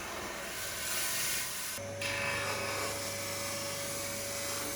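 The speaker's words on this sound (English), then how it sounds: "It was probably a bit abusive to do this on my sanding wheel," Whining sanding wheel grinding a wooden scarf joint, a steady high-pitched mechanical drone that shifts character partway through as the wood is pressed against it.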